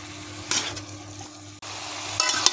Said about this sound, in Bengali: আমি পরিমাণ মতো হলুদ দিয়ে দিলাম। এখন আমি ভালো করে নেড়ে দেবো।